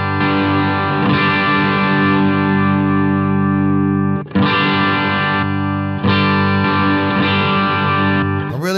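Sustained, distorted electric guitar chords through a BOSS PH-3 phaser with a Boss overdrive in front ring out loud and thick with a swirling modulation, restruck twice after brief pauses, with no voices.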